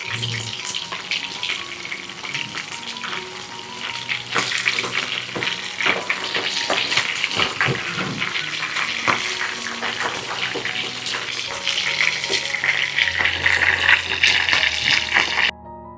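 Chicken deep-frying in hot oil with a spoon of wheat flour added gives off a dense, steady bubbling crackle that runs on without a break, with occasional clinks near the end.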